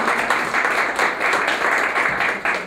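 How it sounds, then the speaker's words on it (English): Audience applause at a talk on the art of Southeast Asia, a dense, even wash of clapping hands that swells and dips slightly, steady and fairly close, with no voices. "let's have a nice round of applause"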